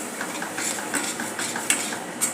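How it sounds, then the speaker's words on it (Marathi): A spoon stirs tomato puree into a green moong vadi gravy in a pot, scraping with soft, regular knocks against the metal and a faint sizzle underneath. It is close and has no talk. "अशा प्रकारे एक टॅमॅटोची प्युरी घालून घेऊया मिक्स करूया"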